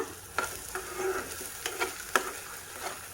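Ground coconut masala paste for a white vegetable kurma sizzles in hot oil while a spoon stirs it. Close frying hiss runs underneath a few sharp scraping strokes against the pan.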